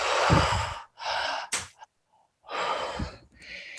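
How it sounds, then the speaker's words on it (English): Slow demonstration breathing for breathwork, drawing deep into the belly and up into the chest, then releasing: several long airy inhale and exhale bursts, close and fairly loud, separated by short pauses. "that breath looks like breathing into the belly and then breathing up into the heart and then out."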